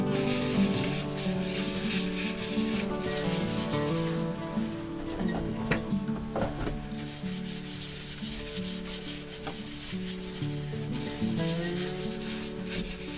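Wood spinning on a lathe while Yorkshire Grit abrasive paste is pressed against it, giving a steady close rubbing and sanding hiss over the continuous hum of the motor.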